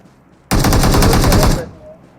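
Loud, close automatic gunfire in the mobile battle-royale game PUBG Mobile, one sustained rapid burst of about a second lasting until it cuts off, with no talk over it.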